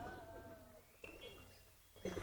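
Soft cooing from a very large pigeon, a low throaty call heard up close for under a second, then quiet, ending with a short rustling burst.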